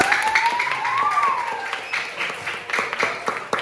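A classroom of students claps for group 3 after their presentation, scattered, uneven hand claps with a teacher's voice and a brief rising tone over the top.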